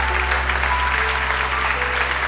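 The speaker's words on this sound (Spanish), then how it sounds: "Dele un fuerte aplauso al Señor." A church congregation claps in praise, a steady, dense wash of applause filling the space at close range without a break, with no voices rising above it.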